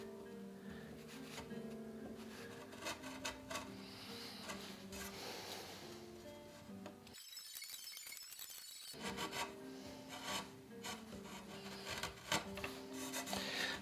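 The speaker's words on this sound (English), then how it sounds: "so I'll just pare away here." Hand tools paring wood on a Greenland paddle being shaped by hand, heard as steady close scraping and rasping strokes that continue throughout, with a brief quieter gap partway through and no speech.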